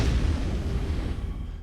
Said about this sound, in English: it's time to cue the explosions